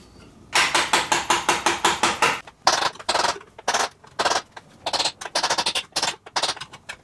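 A bicycle frame's bottom bracket spins freely after reaming, giving a rapid run of evenly spaced ticking clicks that slows into irregular clatters and knocks, close and distinct with no voices.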